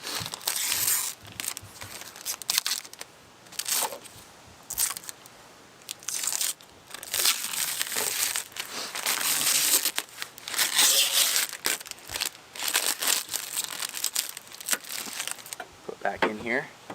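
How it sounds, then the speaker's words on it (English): Protective plastic wrap is pulled off a 2003–2007 Honda Pilot headlight assembly, making close, loud bursts of crinkling and crackling in irregular bunches. "I'm gonna unwrap the protective plastic here"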